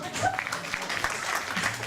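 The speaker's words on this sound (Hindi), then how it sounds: "तो जोरदार तालियां सबकी पत्नियों के लिए।" An audience at an Indian Independence Day gathering applauds, producing a steady wash of clapping with some voices mixed in.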